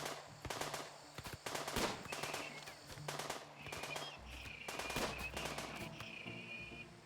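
Rapid gunfire in the video game RimWorld, several bursts of crackling shots with brief pauses between them, fairly loud and close, with faint higher tones in the later bursts.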